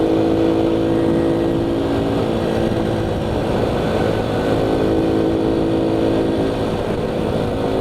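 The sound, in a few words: Honda Cub motorcycle engine while riding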